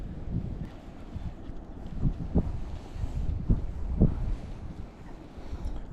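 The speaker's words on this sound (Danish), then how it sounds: "Blæsten skubber bare selv" Gusty wind buffets the microphone on a boat while fishing for large pike on a bog lake, a low roaring rumble that swells and eases throughout, with faint knocks and no talking.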